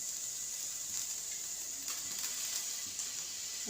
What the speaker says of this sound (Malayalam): ലേശം നമ്മൾ വെളിച്ചെണ്ണ പാരട്ടോ.